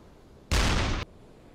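A submarine deck gun in a U-boat naval combat video game fires a single loud, broadband shot lasting about half a second, then cuts off cleanly.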